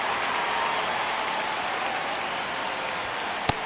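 A ballpark crowd in MLB The Show 25 keeps up a dense, steady roar of cheering during a tense ninth inning, ending with one sharp crack.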